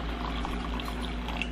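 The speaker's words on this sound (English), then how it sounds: "So I pour boiling hot water." Boiling hot water is poured into a container to clean an engagement ring, making a brief, steady, close splashing pour.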